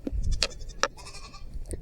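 A herd of goats in an outdoor pasture, several short bleats spaced apart over under two seconds, moderately close against faint background noise and no talk.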